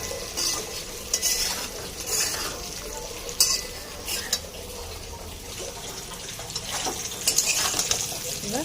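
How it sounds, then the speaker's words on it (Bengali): Potatoes frying with chili flakes in a karai are stirred: repeated scraping strokes of the spoon against the pan over a continuous sizzle, close and fairly loud. "এবার হালকা করে নাড়াচাড়ি করে নেব।"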